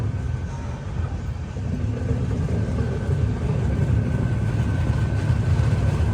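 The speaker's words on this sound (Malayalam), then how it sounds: "ഹാപ്പ റെയിൽവേ സ്റ്റേഷനിലേക്ക് ഇതാണ് നമ്മുടെ ട്രെയിൻ എത്തിക്കൊണ്ടിരിക്കുക" A train arriving at Hapa railway station rolls in as a steady low rumble, loud and continuous, with a faint tonal hum above it and no voices.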